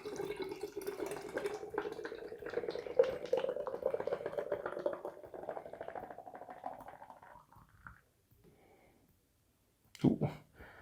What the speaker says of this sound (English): We're gonna give it the hard pour here into the hashtag proper glassware